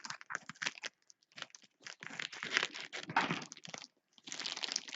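Plastic bag crinkles and rustles in irregular bursts as a yarn parcel, wrapped in a bag inside a bag, is opened by hand close by, with short pauses between handlings.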